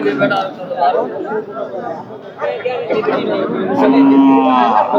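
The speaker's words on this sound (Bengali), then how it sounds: "দেখার মতো গরু আছে দর্শক" Cattle at a busy cattle market give a few moos, one long low call near the end, under constant crowd chatter and a voice talking close by.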